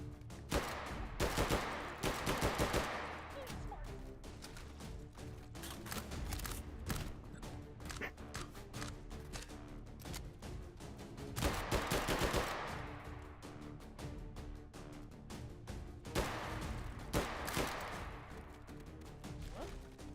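Video game gunfire, dense bursts of rapid automatic shots and single cracks repeating in loud clusters across the whole stretch, with a voice talking briefly underneath.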